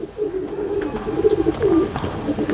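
Pigeons of the Lal Pari and Kasur bloodline coo in a low, soft rolling murmur, close by, amid light background rustle and ambient noise.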